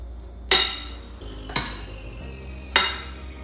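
Cowboy caviar being stirred in a bowl with a utensil, giving three sharp clinks at spaced intervals over a low, steady background.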